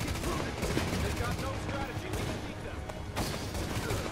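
Suppressive gunfire in the video game The Division rattles in dense, continuous bursts that fill the scene, with voices mixed into the din.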